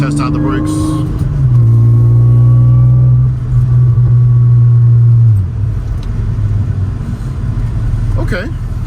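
An Acura TL Type-S six-speed manual, fitted with a new brake master cylinder brace, drives through a neighborhood at moderate speed; a steady, loud engine drone holds, then drops away as the car slows under braking.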